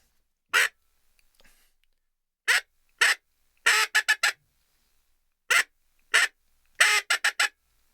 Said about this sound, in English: demonstrate that quack blowing into the call like you normally would